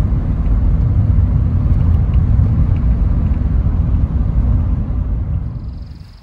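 A Porsche 944 out on a test drive, heard from inside as a steady loud road and engine rumble with tyre roar that holds evenly and then fades out at the end.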